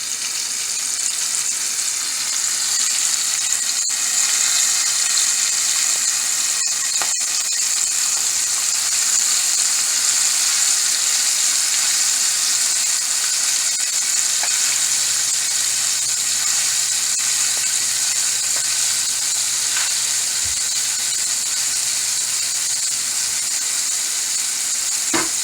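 Cornstarch-coated small shrimp fry in hot oil, giving a continuous loud, bright sizzle with a few faint clinks and stirring sounds over roughly twenty-five seconds.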